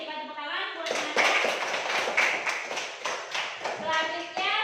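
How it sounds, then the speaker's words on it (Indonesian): Classmates in a school classroom burst into a short round of clapping for their peers, sharp hand claps in a quick irregular rhythm, with children's and a teacher's voices heard before and after. "Berikan tepuk tangan buat teman-teman."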